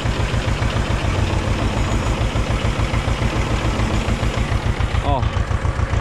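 A tractor engine runs close by during crop spraying in a wheat field, with a steady, throbbing low rumble that continues throughout.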